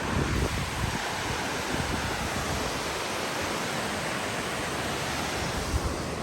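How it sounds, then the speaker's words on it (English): Wind buffeting a microphone outdoors, a loud, continuous low rumble with gusty swells across the whole stretch and no voices. "The wind buffeting got so loud."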